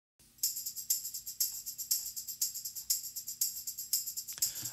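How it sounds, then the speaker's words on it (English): A tambourine shaken in a steady rhythm, bright jingling hits repeating about twice per second, close and clear with no voices. "the tambourine by itself sounds like this"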